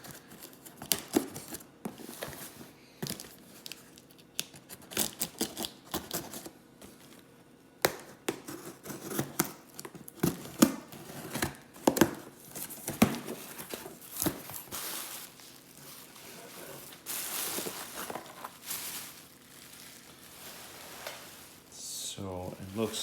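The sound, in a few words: opening a taped returned parcel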